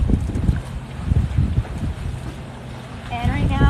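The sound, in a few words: catamaran sailing in wind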